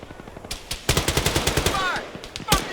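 A machine gun fires in rapid bursts in the military game ArmA 3, loud, close, sharp repeated reports with short pauses between volleys.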